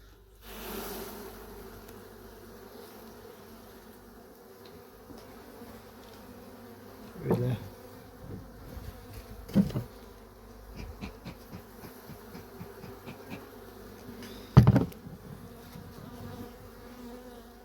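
Steady, dense buzzing of honeybees in a hive during October winter maintenance, with a few louder knocks and thumps from handling frames nearby.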